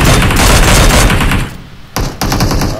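Automatic gunfire in PUBG Mobile, a loud continuous stream of rapid shots that breaks off briefly and then resumes in another burst.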